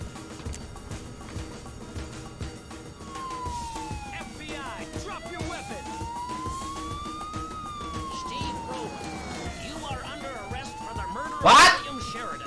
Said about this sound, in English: Lower the siren!